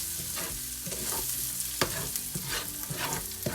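Onions frying in a pan while being stirred and scraped, with a steady sizzle broken by repeated close scraping strokes of a utensil.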